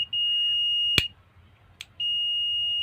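A multimeter continuity tester sounds a steady high-pitched beep while a water kettle's switch is checked, with the tone breaking off briefly in the middle before resuming, loud and close with no talking.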